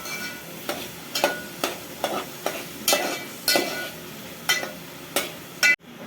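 Onions frying in a pan for a dry chicken dish, a spatula scraping and stirring in regular strokes about every half second over a steady close sizzle, with no talking.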